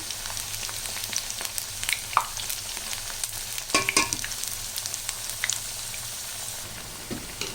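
Taro root (colocasia) vada fry in hot oil with a constant close sizzle and crackle, broken by occasional louder pops and stirring scrapes, with no talk over it.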